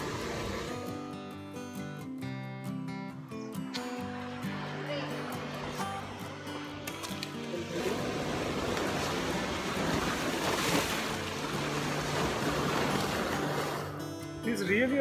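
Rough sea waves crash and surge at Anjuna beach in Goa, a continuous loud roar of surf that swells midway and stays heavy, with people talking over it near the start.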